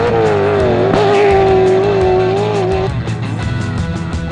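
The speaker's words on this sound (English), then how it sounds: "Doesn't this BMW just sound wonderful?" A BMW rally car at the Klerksdorp 150 races through mud, its engine holding a loud, high, steady note before easing off near the end, close by with no talk.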